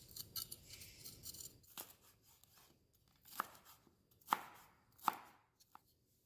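Garlic and fresh cilantro being chopped on a board for guacamole, with quiet, irregular knife taps and rubbing scrapes followed by three sharper, louder chops near the end, with no voices.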